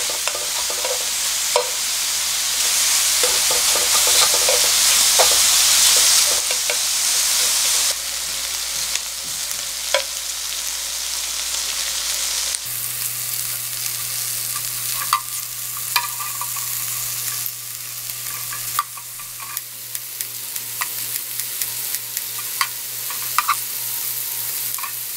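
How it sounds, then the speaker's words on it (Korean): Beef intestine makchang fries and sizzles in its own rendered fat on a grill, a loud, continuous crackling hiss with occasional pops and stirring clinks and no speech. "막창을 이렇게 지글지글 튀기듯이 이렇게 구워서요"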